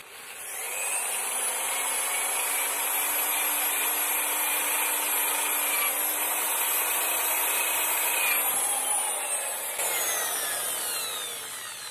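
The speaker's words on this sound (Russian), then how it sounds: "сейчас я начинаю зачищать все это дело" A power tool strips old paint off a Soviet bench vise, a continuous high whirring grind held steady for about ten seconds, then trailing off, with no talking.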